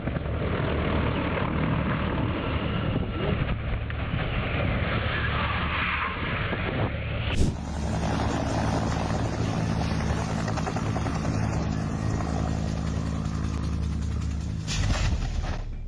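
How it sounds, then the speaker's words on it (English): UH-1H Huey helicopter going down in a crash, with loud, dense rotor and turbine roar throughout and an abrupt shift partway through into a harsher, brighter wash of noise. "UH-1H helicopter crash."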